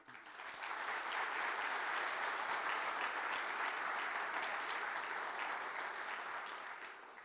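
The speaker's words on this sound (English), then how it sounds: "Please give them a round of applause as a thank you for their hard work." A large crowd at the Regina Sports Hall of Fame induction ceremony applauds, with dense, even clapping that fades in, holds steady and faint for several seconds, then tapers off, with no voices over it.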